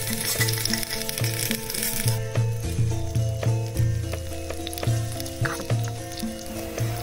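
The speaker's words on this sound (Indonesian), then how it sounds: "kali ini Mbak Barbie mau masak sambal goreng ampela sama tumis" Chicken gizzards stir-fried in a tiny toy kitchen pan, a steady close sizzle of frying with repeated light scraping and tapping of the stirring utensil in an uneven rhythm, no voices.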